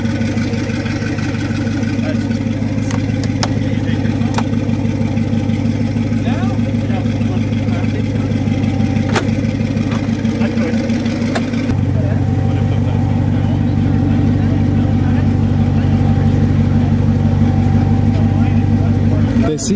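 A Koenigsegg CCX supercar's engine runs loudly and steadily, heard from inside the cabin, a constant low drone that thickens around the midpoint, with a person speaking over it.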